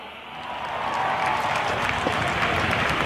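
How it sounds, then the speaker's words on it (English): Large outdoor crowd applauding at an Indian Air Force Day air show on Marina Beach in Chennai, a steady broad clapping wash that swells after the first second and holds loud to the end. "can I hear a huge round of applause?"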